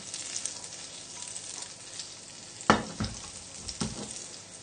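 Fat melting and sizzling alongside a little oil in a pan for lamb jalfrezi, a soft steady crackle with a few sharper bursts where the pan is stirred or swirled, close and without voices.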